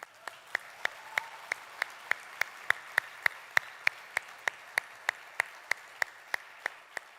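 Applause at the closing session of a scouting conference: an even patter of clapping from a large crowd that holds steady throughout, with sharp individual claps standing out at a regular rhythm and no talking.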